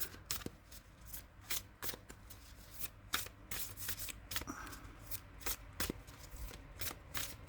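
Close riffle-shuffling of a large deck of oracle cards, the crisp bursts repeating in an uneven rhythm at a fairly low level, with no voices.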